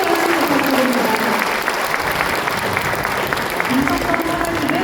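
An audience at a ceremony claps steadily, a dense, sustained round of applause from a crowd filling the hall for about five seconds.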